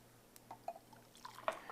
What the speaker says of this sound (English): And then we pour it into the glass.